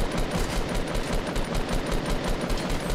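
Rapid automatic gunfire in Fortnite rattles steadily at trees, a fast, even stream of shots close and loud with no talk over it.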